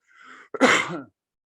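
A single sharp cough bursts out after a brief breathy throat sound, close and fairly loud, then silence.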